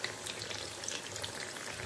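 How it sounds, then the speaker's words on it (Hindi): Potato nuggets fry in hot oil with a steady, faint crackling sizzle that runs unbroken, dense with tiny pops and no voices over it. "दोनों साइड अच्छी तरह से कलर चेंज होने तक फ्राई कर लेती हूँ"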